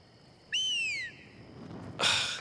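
A single sharp whistle with a falling pitch rings out over quiet background, followed by a brief burst of rustling noise.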